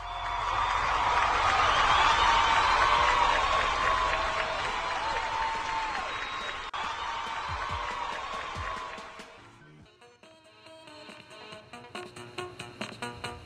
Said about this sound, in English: Let's give each one of us a round of applause.